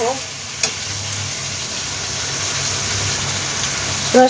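Rohu fish curry stir-frying in a pan, a steady close sizzle with soft stirring scrapes and a couple of brief clinks, continuous throughout.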